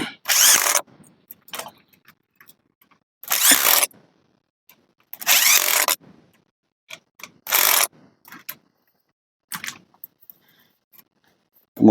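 Impact wrench driving in bolts on a Panasonic water pump, heard as several short, loud rattling bursts separated by pauses, with a few fainter clicks in between.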